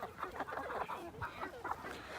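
Free-range hens cluck in short, uneven bursts close by, several birds overlapping in a busy, chattering flock with soft murmurs between calls.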